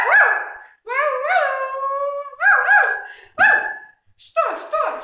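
A human voice imitates a dog in a French folk tale rehearsal, with a string of close, loud, wavering howls and whimpering whines in bursts separated by short pauses.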